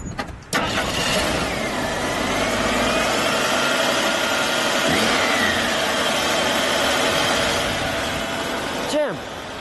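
A black 1983 AMC Eagle Sport SX/4 4x4 engine cranks and catches, then runs at a steady, loud idle with light revving close by, ending in a brief sweep near the end, with voices around it.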